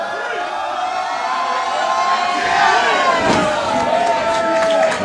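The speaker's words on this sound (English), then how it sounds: "This crowd, WrestleMania, is running wild up in here." A large wrestling crowd at a WrestleMania match roaring and cheering, a loud sustained mass of voices with shouts and whoops that swells midway and stays strong to the end.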